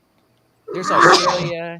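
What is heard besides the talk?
person sneezing in a video clip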